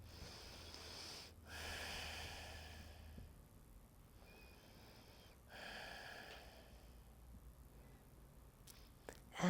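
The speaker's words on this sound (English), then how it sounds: "Take a couple breaths." Deep breathing during a self trigger point release of the adductors, with two slow, audible breaths rising and fading a few seconds apart, quiet and close with no talking.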